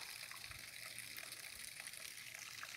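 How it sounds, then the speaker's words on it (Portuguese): Crystal-clear spring water flows steadily at an old historic farm, a faint, continuous hiss and gush of running water with no voices. "Água cristalina, água da mina."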